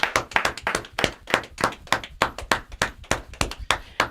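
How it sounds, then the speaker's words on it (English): Sparse, uneven hand clapping from a small group, single sharp claps in a loose rhythm rather than a full crowd, close and fairly loud with no talking. "Let's give everybody, Colby, a big round of applause."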